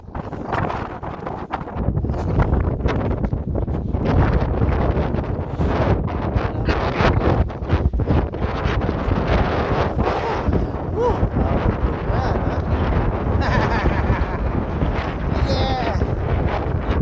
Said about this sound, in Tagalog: Snowstorm.